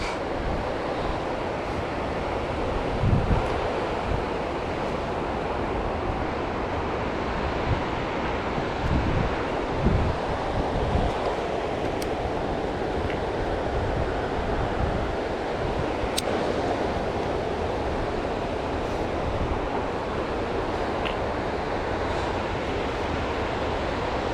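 A river rushes steadily beside a canyon hiking trail in Idaho, a broad continuous wash of water close by, with occasional wind buffeting the microphone.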